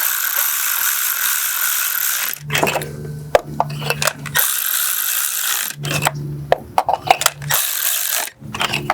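A Milwaukee cordless ratchet whirs in several short bursts to snug the spark plugs on a 1.8L/2.0L Kia Forte. The motor runs in rising and falling pulses, broken by metallic clicks and clinks from the tool handling nearby.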